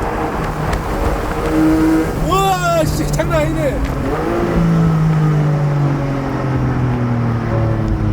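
Porsche Boxster 4.0 GTS six-cylinder boxer engine revving loudly up and down through downshifts, close and dominant, with excited voices talking over it.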